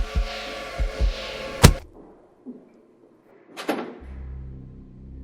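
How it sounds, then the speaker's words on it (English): A storage warehouse door shuts with one sharp, loud impact, followed by quieter rattling and a second clatter, then a low steady hum in an otherwise quiet space. "I rushed inside and closed the door."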